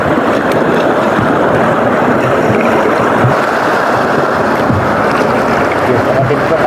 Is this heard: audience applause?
no